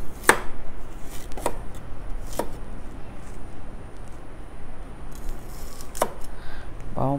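A knife chops roughly through garlic and onion on a board in a few sharp, irregular thuds, close and clear, in a home kitchen.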